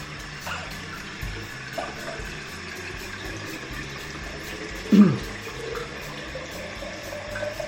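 Water filling a container from a tap while preparing homemade mead, a soft steady trickle and splash throughout with a brief louder gurgle midway.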